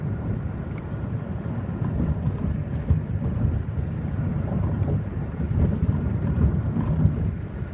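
Wind blows hard across the microphone outdoors at night, a steady low rumbling roar with gusty fluctuations throughout.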